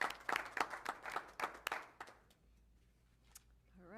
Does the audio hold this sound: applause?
yes